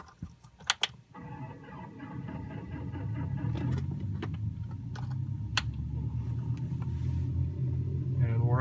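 A Cessna 182 engine starts in a home cockpit flight simulator. A few sharp clicks come first, then a low rumbling drone builds and holds steady, moderately loud, with occasional clicks over it.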